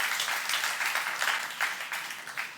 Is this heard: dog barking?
no